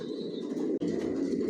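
Long-distance racing pigeons of a Janssen line cooing close by, a continuous low throaty murmur from several birds with a brief break midway.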